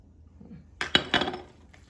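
A spoon scrapes and clinks against a bowl while cornbread batter is stirred together with leftover corn, a few quiet sharp knocks in quick succession over a near-silent kitchen background.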